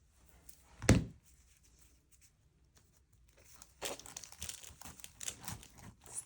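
Peppermint stripe sprays for a gingerbread wreath are pulled apart and trimmed, giving a sharp crinkling snap near the start, then a run of close rustling, crinkly plastic and wire sounds.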